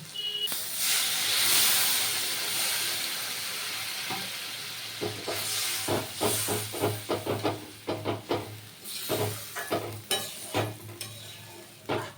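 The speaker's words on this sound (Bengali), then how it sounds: "মশলা কষানো হয়ে গেছে এখন দিয়ে দেবো জল" Water poured into fried spice masala for a pangas fish kalia bursts into a loud, steamy hiss, then settles into a quieter sizzle broken by close, repeated scrapes of stirring in the pan.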